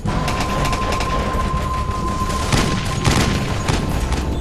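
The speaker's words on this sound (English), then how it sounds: "They're under heavy mortar fire." Heavy mortar and gunfire during an Al Qaeda ambush in combat, a loud continuous barrage of overlapping blasts and crackling shots with sharper impacts near the middle and end, a steady tone running beneath.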